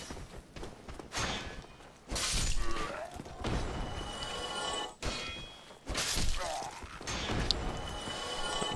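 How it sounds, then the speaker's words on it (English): Objects are smashed apart in Dark Souls with repeated sharp shattering crashes and thuds, several heavy breaking bursts spread across the stretch between quieter moments. "It's just so fun to smash things in this game."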